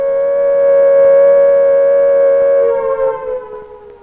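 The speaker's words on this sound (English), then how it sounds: "The sirens, whose shrill cry of warning triggered a whole complex chain of events, are now still." A loud, steady civil defense siren wails on one sustained pitch, then wavers and fades away over the last second or so.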